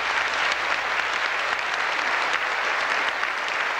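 Theatre audience at a 1986-87 pantomime of Snow White clapping steadily and loudly throughout, a dense even wash of many hands with no voices over it.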